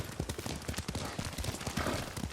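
Horse hooves clop in a steady, quick rhythm during a ride in Ghost of Tsushima, moderately close and continuous for a couple of seconds.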